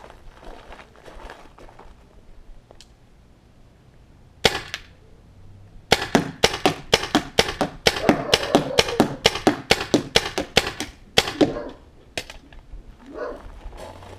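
A magazine-fed paintball marker fires GI 2-Star paint in a fast string of sharp, loud cracking shots, after a quieter stretch with a single pop; the volley runs several seconds, then tapers off.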